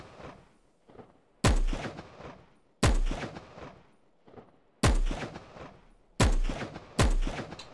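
Sniper rifle shots in the video game Will To Live Online, five sharp, loud reports spaced about one to two seconds apart, each with a booming tail and quieter ambient rumble between.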